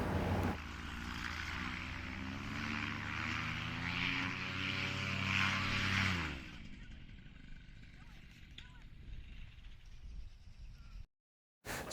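A paramotor's engine and propeller drone steadily and loudly for about six seconds during a first solo powered-paraglider flight attempt, then cut out, leaving quieter rustling and wind.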